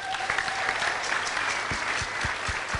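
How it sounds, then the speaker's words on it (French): An audience breaks into steady, full applause honoring women, many hands clapping in a dense, continuous wash with a few sharper individual claps standing out near the end. "Applaudissez-vous"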